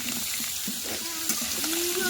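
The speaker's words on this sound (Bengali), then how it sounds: "আলুটা ভালো করে ভাজা হয়ে গেছে" Potatoes and pumpkin pieces with turmeric and salt fry in hot oil, giving a steady, close sizzle for the whole stretch, with a faint voice now and then underneath.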